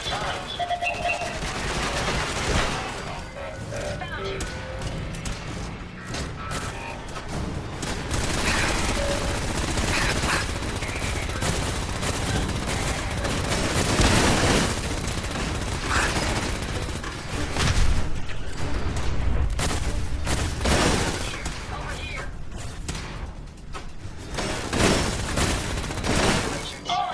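Turret gunfire from the video game Fallout 4's Automatron add-on: sustained machine-gun bursts and rattling volleys with occasional booms run almost continuously, loud and dense, with a voice talking at times.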